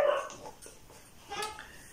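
A dog barks faintly a couple of times in the background, short and somewhat distant, with low ambient noise between the barks.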